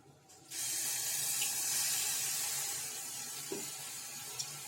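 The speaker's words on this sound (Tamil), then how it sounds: "இப்போ கொஞ்சமா தண்ணி சேர்க்கறேன்" Water is poured into a pan holding sugar, a steady broadband splash and hiss that starts abruptly after half a second and runs on evenly at close range, with no talk.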